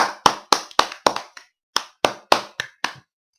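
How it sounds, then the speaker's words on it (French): Ten sharp hand claps, close and dry, arrive in a steady rhythm of about four per second, with a short pause after the fifth. They accompany a French-language Minecraft survival episode. "Attendez, il faut m'applaudir."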